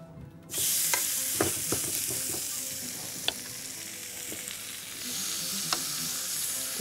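Chicken breasts sizzle and fry steadily in a hot pan, a continuous bright hiss with occasional sharp pops and crackles, close and fairly loud with no talking.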